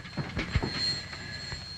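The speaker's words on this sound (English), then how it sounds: "What's this special train that you say has just left your place?" A railway train in a 1937 film scene, a steady rumbling run of wheels with faint clatter and a thin high squeal above, continuous and fairly close, with no voices.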